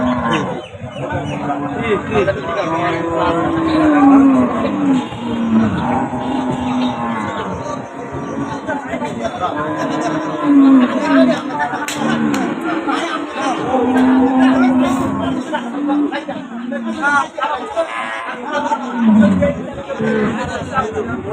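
Jersey cows low repeatedly amid a busy cattle market for dairy cows, with several drawn-out moos rising over constant crowd chatter and people talking nearby.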